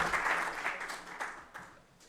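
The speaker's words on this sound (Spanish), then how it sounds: "Un aplauso, por favor." An audience applauds at an occupational health seminar at Universidad Viña del Mar. The clapping is a moderate, fairly distant patter that fades out over about two seconds.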